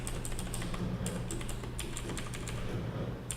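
Computer keyboard typing recorded close to the microphone, a steady run of quick key clicks with scattered louder taps over a constant low background hum.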